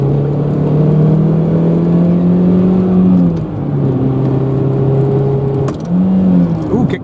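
A car engine hums steadily on the road, then the revs jump and fall twice as the transmission pops out of third gear, a loud close drone with whirring shifts and no talk.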